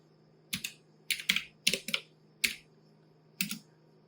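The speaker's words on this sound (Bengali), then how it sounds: "ওইটা ম্যানুয়ালি টাইপ করে নিতে হবে" Someone manually types a local network address on a computer keyboard: about eight crisp, close key clacks come in uneven small clusters, with brief pauses between them and no voices.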